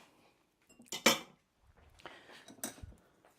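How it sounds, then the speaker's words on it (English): Egg yolk mixed in a bowl while making banana cookies, with a couple of loud clattering scrapes and clinks of utensil against bowl in short bursts, close by and without talk. "now I'm just going to mix that together"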